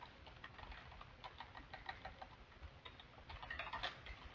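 Light keyboard typing as a folder path is entered on a computer, soft quick keystrokes in an irregular run, faint and close with no talk over it.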